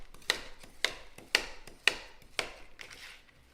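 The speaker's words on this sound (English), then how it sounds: "I'm just gonna take some frozen, really ripe bananas. And I'm gonna chop them up." A knife chops through frozen, very ripe bananas on a board, five crisp sharp strikes at roughly half-second intervals, close and clear in a quiet kitchen.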